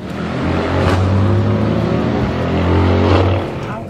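Mercedes car driven fast on a race track, engine droning loud and close with a steady low hum that swells in two long pushes, easing briefly in between.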